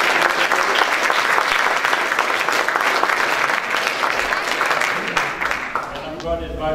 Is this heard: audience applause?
yes